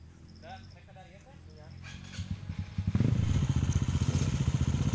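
Motorcycles revving at a wild race circuit, engines rising from quiet into loud, rapid throttle bursts in the second half, with voices talking early on.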